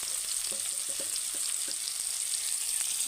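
Steady sizzling of chopped onion, boiled potatoes and green chilli frying in oil in a pan, with a few soft stirring knocks early on; continuous and fairly quiet, no talking.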